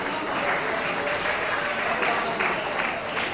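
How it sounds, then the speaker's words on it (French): A crowd claps for the speaker's wife at a Kimbanguist church gathering, dense sustained applause filling the space at an even level. "Applaudissez pour mon épouse."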